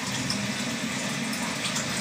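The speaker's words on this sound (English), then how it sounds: "Fill it up with water. This pitcher is about a half gallon" Water running steadily from a tap into a half-gallon pitcher, a loud, even gushing splash that fills the whole moment without pause.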